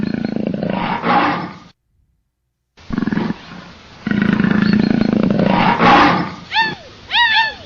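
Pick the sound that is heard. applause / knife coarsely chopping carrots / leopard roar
leopard roar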